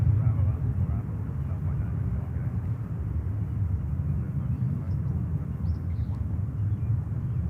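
Emirates A380 airliner at JFK airport, a steady low jet rumble holding loud and even throughout, with no distinct approach or fade.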